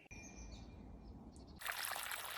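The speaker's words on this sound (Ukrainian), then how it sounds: "Ось так активно відтікає водичка." Dirty water pumped up by a submersible pump for dirty water splashes out from a freshly dug septic pit in a village yard, starting suddenly after a quiet moment with faint birdsong and flowing as a steady close gush.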